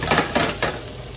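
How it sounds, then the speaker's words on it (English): Onions hitting a hot pan for Pad Thai, giving a broad sizzling hiss with three short bursts of stirring noise in quick succession, close and fairly loud, with no talk. "Let's add some onions."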